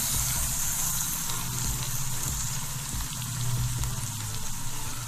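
Chicken pieces frying in a pan over low heat for chicken pulao, a continuous dense sizzle and crackle close by, steady without pauses or speech.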